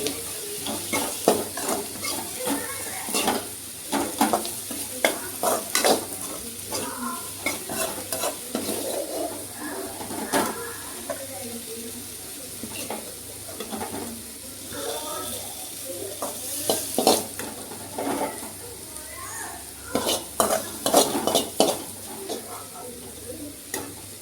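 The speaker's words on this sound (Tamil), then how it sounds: "இது கொஞ்சமாக கொத்தமல்லி தூவி அப்படியே ஒரு பெரட்டி எடுத்தோன்னா" Raw banana pepper fry with coriander being stirred in a pan, a steady scraping and clatter of spatula with a soft sizzle underneath, repeated strokes throughout, close and fairly loud.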